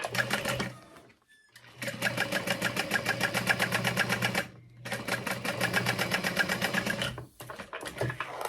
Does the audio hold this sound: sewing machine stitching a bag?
yes